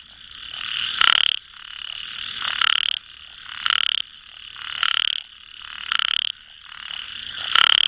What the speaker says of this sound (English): And then there are frogs which make sound like that.